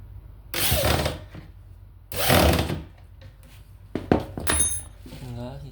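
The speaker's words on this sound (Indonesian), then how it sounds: "sebelah sisi bawahnya pun juga sama ya masangnya. Lalu kita bor." A power drill drives screws while an office desk is assembled, in two loud bursts of a few seconds each, followed by clattering parts and a person speaking.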